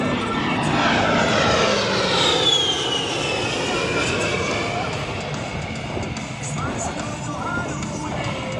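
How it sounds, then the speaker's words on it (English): An A-10 Thunderbolt II jet roars loudly through a level 360-degree high-G turn over an airshow crowd. A sustained, sweeping engine whine shifts in pitch as it passes, and a voice is heard under the noise. "Major Johnson is now positioning her aircraft to perform a level 360-degree high G turn"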